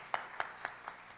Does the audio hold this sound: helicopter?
no